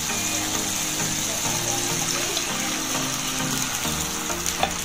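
Two cups of water hit a hot pan holding chili and instant egg noodle ingredients, giving a steady sizzling, bubbling hiss with soft stirring clinks throughout, close and moderately loud, with no talking.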